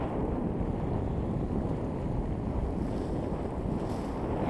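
Wind gusts rush steadily over a solo sailboat crossing the Atlantic, a loud, unbroken roar of wind noise mixed with water movement around the hull, with no voices.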